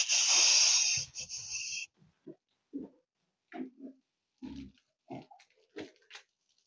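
Pigs in a clean fattening pen, heard as a loud wheezy squeal at the start followed by a series of short, close grunts and snorts spaced out in irregular bursts, no talking.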